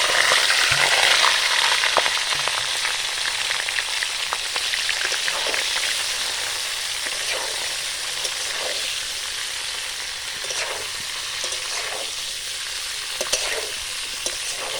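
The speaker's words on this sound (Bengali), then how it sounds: "তেলের উপর দিয়ে দেবো ভেজে রাখা সবজি।" Vegetables that were already fried go back into hot oil and are stirred, giving a loud, steady sizzle with spatula scrapes throughout. It is louder at the start and settles a little later, with no voices.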